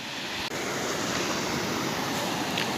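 River water rushes continuously past a water-powered flour mill, a dense, steady broadband roar of flowing current with no voices.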